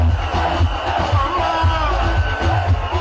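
A dense crowd cheers and shouts loudly and continuously as a musician-turned-politician arrives at an election rally in Uganda, with rhythmic thumping beneath the roar.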